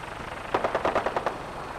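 Automatic gunfire in Fallout 4, a short burst of about eight rapid, evenly spaced shots at middling distance, alone over a low background hum.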